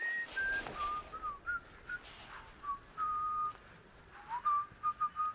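A character whistling in the video game Atomfall, a run of short, clear whistled notes rising and falling in a loose tune over quiet ambient background.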